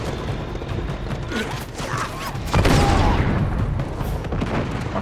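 Enemy gunfire in the video game Uncharted 2: Among Thieves, a dense run of shots and booming impacts that swells into a louder, heavier barrage partway through, close and continuous with no talk over it.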